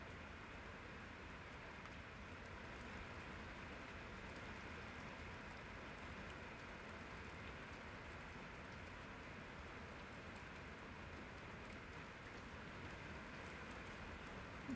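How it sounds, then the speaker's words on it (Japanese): Heavy rain pours down steadily, a dense, even hiss of drops that stays constant and fairly distant throughout, with no voices. "雨がすごいよ、"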